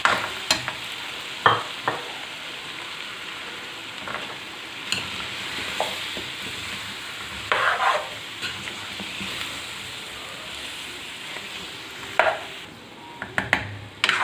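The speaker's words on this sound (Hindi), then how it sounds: "अब इन मिर्चों को हम चिकन के साथ पकाएंगे।" Green chillies fry with chicken in a karahi, giving a steady close sizzle broken by occasional stirring scrapes and clinks of a spoon against the metal pan.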